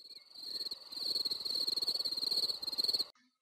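Dense chirping of crickets, a steady high insect trill over rapid pulsing calls, building then cutting off abruptly.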